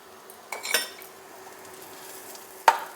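Ghee hits a pan of boiled vegetables with a brief soft sizzle, framed by a couple of light utensil clinks against the pan and a sharper metallic tap near the end, close and quiet.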